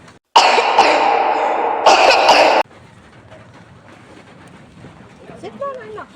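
A child's coughing comes in two loud, harsh bursts close to the microphone, separated by a short gap, followed by quiet room noise and a faint voice near the end.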